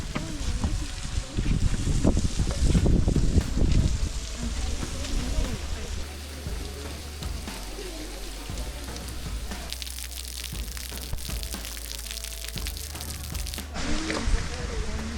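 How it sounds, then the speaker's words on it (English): Falling water splashing from the waterfall at Lower Emerald Pools in Zion National Park, heard up close from underneath as a steady rain-like patter with wind buffeting the microphone, while people talk over it. "We're at the lower Emerald Pools at the waterfall, and we were walking under it"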